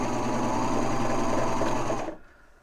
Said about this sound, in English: So I'm going to go ahead and start sewing here.